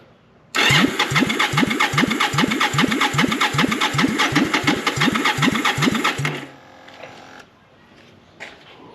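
Jocker Bobber motorcycle engine cranking over on the starter for about six seconds, a loud, steady rhythmic churn of regular compression pulses that stops abruptly, followed by faint quiet.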